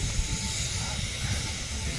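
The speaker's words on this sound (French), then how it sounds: "C'est des machines à vapeur qui marchent au bois." A wood-fired steam locomotive vents a loud, continuous hiss of steam close by, a broad rushing noise holding steady over a low rumbling base throughout, with no voices.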